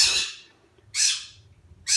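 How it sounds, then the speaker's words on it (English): Birds squawking outdoors nearby, three loud harsh calls spaced about a second apart with quiet gaps between them. "like the birds over there are blowing up"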